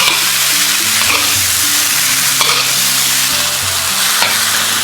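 Bean sprouts and cooked flour dough stir-fried in a pan for Thai khanom phak kad, a loud, continuous sizzle with scraping strokes of the spatula, close and without talk.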